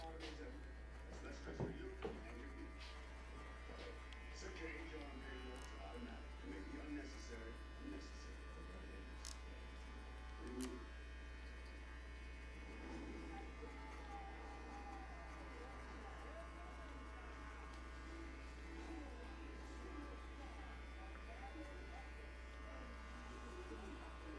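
An electric hair clipper cutting a fade buzzes steadily and close for the whole stretch, with small shifts as it works through the hair and a few light clicks and handling noises.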